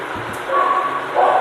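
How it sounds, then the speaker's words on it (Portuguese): A dog gives a few short yips and barks near the start, followed by a steady indoor hum with a faint whine over it. "desculpe o barulho aí do cachorro"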